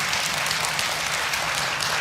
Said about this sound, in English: If you believe, clap your hands.